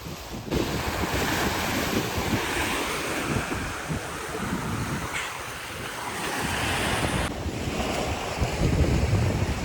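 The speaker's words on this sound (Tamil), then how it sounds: "லைக் இதுதான் நம்மளோட பீச். நமக்கு பேக் சைடில் இருக்கக்கூடிய ஒரு குட்டி பீச் இது தான்." Waves wash steadily onto a small beach, a continuous broad surf rush mixed with wind buffeting the microphone, with no voices throughout.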